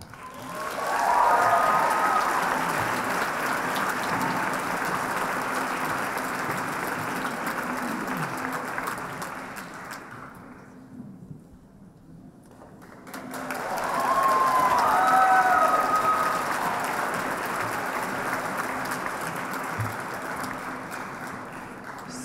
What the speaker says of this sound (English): So the first student gets the longest applause.